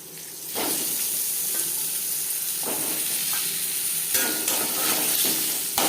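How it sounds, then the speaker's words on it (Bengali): Potatoes fry in hot oil with bay leaf and whole cumin, giving a loud steady sizzle with bursts of hissing as they are stirred and tossed in the pan. "তেলের সাথে আলু ভালো করে মিক্স করে দেবো"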